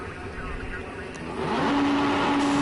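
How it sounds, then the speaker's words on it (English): Race car engines at Lydden Hill circuit rev before the start. A steady mechanical drone swells louder midway and settles into a held, rising engine note while a commentator talks over it. "Revs are up. They're ready to go."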